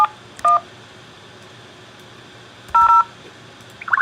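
Telephone keypad buttons send DTMF dialing tones in three short beeping bursts, separated by quiet line hiss. The tones are clear, electronic and close, with no voice over them.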